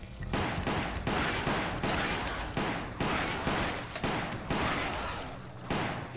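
Gunfire during Resident Evil: Umbrella Chronicles gameplay, heard as a steady run of loud, evenly spaced shot bursts repeating roughly every second, with brief gaps between volleys.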